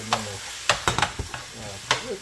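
Onions sizzle with steak in a pan, a soft, steady hiss broken by several sharp scraping knocks as they are spread out, close by, with brief talk over it.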